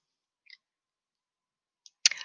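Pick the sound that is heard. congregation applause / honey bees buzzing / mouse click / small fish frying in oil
mouse click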